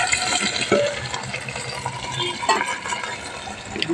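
Goat head meat with turmeric drops into hot oil, giving an irregular sizzle with wet splatters and stirring clatter, close and fairly loud.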